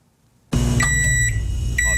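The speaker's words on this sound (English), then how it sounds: "Here's the chirp of a dying battery in a smoke detector." A smoke detector with a dying battery sounds a few short, high electronic beeps over a steady low rumble that starts abruptly after a brief silence.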